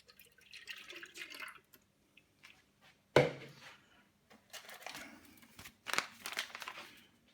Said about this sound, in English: I'm going to put my water in.